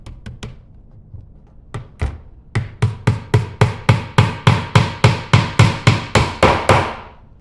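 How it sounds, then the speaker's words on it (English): A hammer drives nails into the back panel of a mixed-material nightstand during assembly: a few scattered taps, then a steady run of about eighteen evenly spaced, sharp, close blows. "Just take a hammer"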